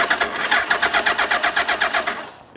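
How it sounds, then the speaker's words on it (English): An RFID-rewired motorcycle engine cranks without starting, a rapid rhythmic chugging of about a dozen even pulses from the starter that stops abruptly, close and fairly loud. "it turns over, but it doesn't start"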